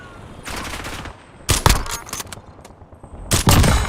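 Bursts of Call of Duty gunfire crack out in three loud volleys, the first a sustained rattle of rapid shots, then a sharp close burst with trailing echo, and another heavy burst at the end.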